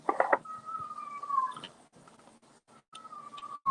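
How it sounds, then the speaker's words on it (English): A pet cat meows indoors, several drawn-out, fairly clear meows close by, separated by brief quiet pauses. "Do you hear that kitty cat?"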